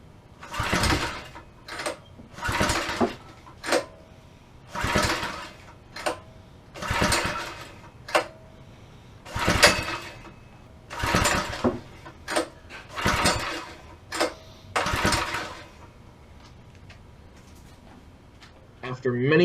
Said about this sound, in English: After many cranks, I finally get this engine to start.